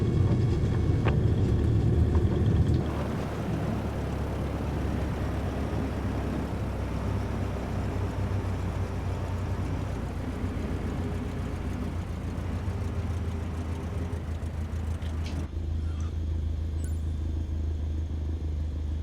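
Airplane engine idling in the Microsoft Flight Simulator game, a steady low rumble that holds for the whole stretch with a louder burst at the start and a slight drop near the end, no talk over it.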